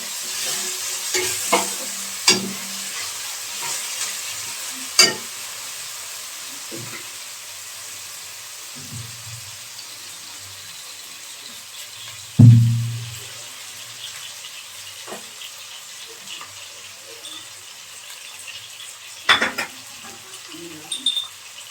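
Chopped tomato stirred into a well-fried spice masala in a pan, with soft sizzling under scattered clinks and scrapes of a utensil against the pan, and one louder knock midway.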